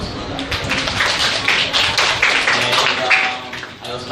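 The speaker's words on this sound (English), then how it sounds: "So can we give ourselves a big round of applause for that?" A classroom of students applauds themselves, a dense, steady round of clapping that fills the whole stretch, close and fairly loud, with some voices mixed in.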